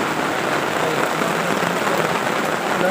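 Heavy rain pours down in a steady, dense roar outdoors at night while frogs are being hunted near coconut trees, with no break in the downpour.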